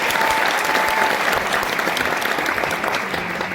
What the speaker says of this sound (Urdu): ایک مرتبہ میم کے لیے بھرپور تالیاں ہونی چاہیے.